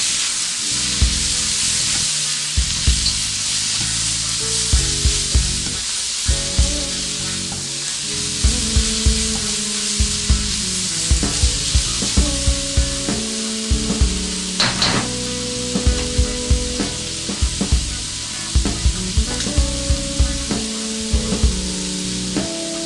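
Steak picado with chopped tomatoes sizzling loudly in a pan, a dense constant sizzle broken by frequent clicks and knocks of stirring, close up with no talking.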